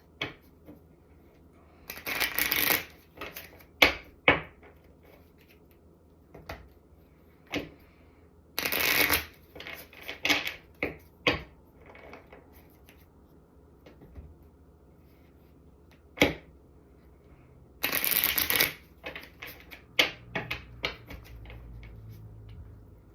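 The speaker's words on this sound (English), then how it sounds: "we're going to pull a couple other cards before we get into the tarot" Tarot cards are shuffled in several loud, rustling bursts, each followed by scattered taps and flicks as single cards are pulled, with quiet gaps between and no voices.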